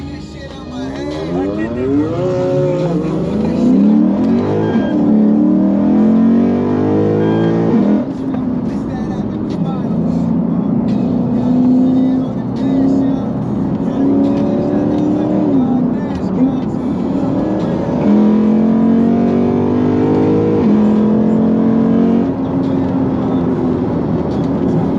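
A Lexus IS F fitted with an RR Racing intake and tune pulls hard on a highway, its engine droning loud and steady with rising and falling pitch through gear changes, heard from inside the cabin.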